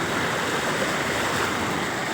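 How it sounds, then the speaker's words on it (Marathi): Steady, dense rush of a swollen river running high after heavy overnight rain in a village, a loud continuous roar with no pauses. "पाणी वाढलेलं आहे नदीला"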